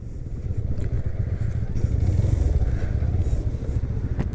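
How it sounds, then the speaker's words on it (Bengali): A motorcycle rolls downhill in first gear on engine braking, its low engine drone steady and close throughout with light rattling and road noise. "নামো ইঞ্জিন ব্রেকে নামো, এক গিয়ারে রেখে ইঞ্জিন ব্রেকে নামো।"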